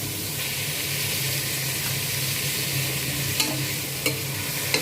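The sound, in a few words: sautéing and mashing tomatoes with onions in a pan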